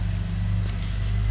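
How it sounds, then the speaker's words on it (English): A street sweeper drives along a residential street, its engine a steady low rumble with a broad brushing hiss, continuous and fairly close throughout. "street sweep is on my street right now"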